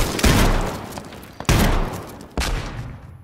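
A flashbang grenade and sharp bursts of gunfire in the video game H1Z1, three loud cracks about a second apart, each with a decaying rumble, heard close with no talking.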